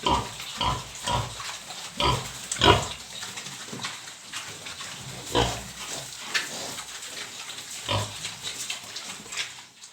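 Pigs, including sows, grunt and snuffle repeatedly up close, irregular bursts of low rough grunts with occasional louder squeals.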